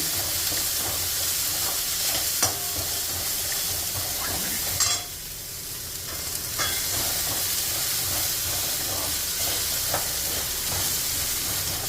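Onions sauté in a pan for beaten rice (poha) upma, a steady sizzling hiss with occasional stirring scrapes, briefly dipping quieter midway before the frying crackle resumes, close and alone.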